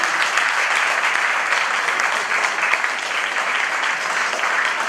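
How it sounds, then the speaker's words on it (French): An audience claps steadily and fairly loudly for about five seconds at an International Women's Day event, a dense, continuous wash of many hands with no voices on top. "Applaudissez encore une fois, Dr Ghislaine."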